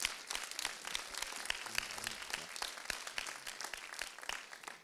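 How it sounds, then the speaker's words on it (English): An audience at an evening community meetup in Utah claps in a dense, steady round of applause filling the whole stretch, near and fairly loud, with no talk over it. "Let's give Jordan a round of applause"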